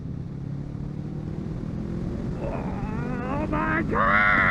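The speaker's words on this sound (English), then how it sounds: "Oh, the power of a bike!" A motorbike engine revs and accelerates, its rising harmonic whine climbing in pitch and growing louder toward the end over steady road and wind noise.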